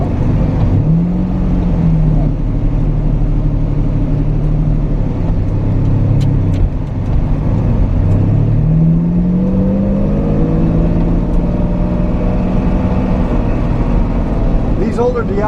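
Engine drone and road rumble inside the cabin of an older Lamborghini Diablo with aftermarket exhaust while driving, a steady loud roar with rising and falling revs as it shifts.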